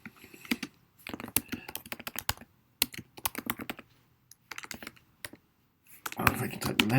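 Line-wrap code being live-typed on a computer keyboard: loud, close clattering keystrokes in rapid bursts separated by short pauses, ending in a dense flurry of clicks.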